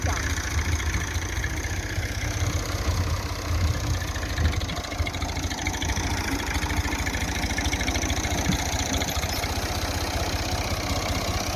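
A Massey Ferguson MF 240 tractor engine runs with a steady, close diesel chug and a fast low knocking rhythm, holding an even drone throughout.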